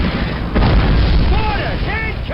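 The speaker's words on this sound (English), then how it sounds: "Mortars! Incoming!" Mortar shells bursting in the Call of Duty American campaign, a dense, loud low-end rumble of blasts across the whole stretch, with shouted voices breaking through in the second half.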